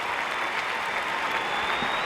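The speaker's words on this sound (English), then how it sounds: "a big round of applause here at the Rosemont Horizon" Crowd applause fills the Rosemont Horizon arena after a Pete Sampras and Andre Agassi tennis set, a dense, steady roar of clapping throughout.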